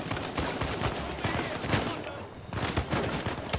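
Rapid gunfire in Uncharted 4, a dense string of sharp close shots in bursts with a short lull midway, loud and continuous.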